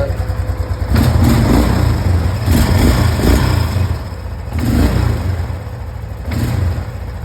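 Carbureted engine idling steadily as it warms up with the choke off, a close, even running note with a few brief rises in revs and rattling in the background.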